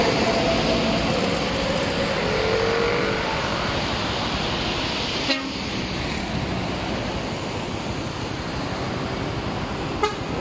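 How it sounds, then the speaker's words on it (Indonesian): Hino box truck and Hino tronton truck pass on a busy road, a loud steady roar of engines and tires with a brief horn toot near the end, no talking. "Truk box Hino, truk tronton Hino."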